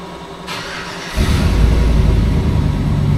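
Milling machine slowly feeding into an NP205 transfer case, a steady mechanical drone that jumps to a louder, heavier grinding hum about a second in and holds there, close and continuous.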